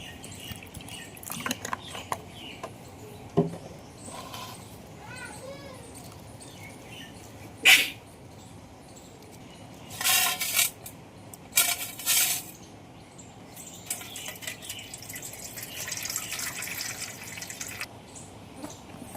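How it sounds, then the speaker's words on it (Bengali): Flattened rice (chira) being washed in water by hand, with soft splashes, drips and sloshing pours in a few brief bursts against a quiet background. "যে চিড়েটা আমি নিয়েছি সেটাকে ভালো করে জল দিয়ে ধুয়ে নেব"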